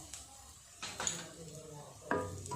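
A spoon stirs aloo and green peas curry in a pan, giving a few quiet scraping strokes against the metal with a soft sizzle between them.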